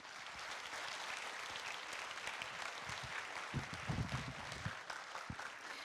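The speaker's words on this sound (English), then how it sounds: "Please give it a round of applause to our partners." Steady applause from an audience at a university lecture event honouring its partners, a continuous even patter of many hands at moderate distance, with a few louder thumps near the end.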